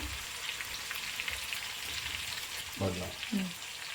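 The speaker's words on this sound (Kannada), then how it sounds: "ನಾವು ಕಲರ್ ಬರೋವರೆಗೂ ಫ್ರೈ ಮಾಡ್ಕೋಬೇಕು, ಆನಿಯನ್ಸ್." Salted onions frying in a pan for Andhra-style chicken chutney powder, a faint steady sizzle throughout, with a couple of louder stirring scrapes near the end.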